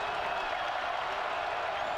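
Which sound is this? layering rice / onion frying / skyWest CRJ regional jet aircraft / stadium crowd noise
stadium crowd noise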